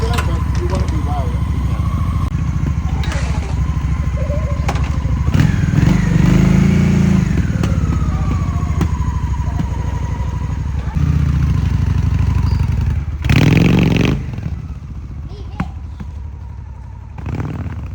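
A 2003 Honda Shadow motorcycle runs nearby with a steady, fairly quiet engine note, rising briefly with a couple of revs, as people talk over it much of the time.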